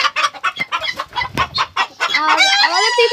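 Chickens cluck in close, quick bursts at a poultry farm, building into a loud sustained squawking call at the end.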